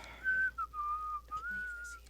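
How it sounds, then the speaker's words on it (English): A person whistles a short wavering tune of a few connected notes, clear and close, lasting about two seconds with brief breaks between phrases and no talking. "Whistling is not necessary."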